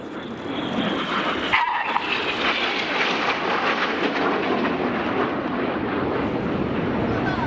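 Red Arrows jets at the East Fortune Airshow roar past as two aircraft close from opposite sides in turning passes, a loud, broad jet-engine rush that swells and holds throughout.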